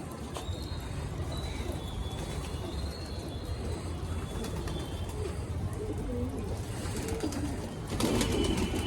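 Soft pigeon coos repeat in the background over a busy, noisy outdoor ambience, with occasional faint clatter.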